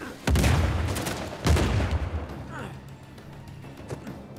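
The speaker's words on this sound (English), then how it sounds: "It's a shotgun pistol." A shotgun pistol firing in Uncharted 4, with two loud, close blasts that ring out and fade, followed by lighter clatter and scattered noise.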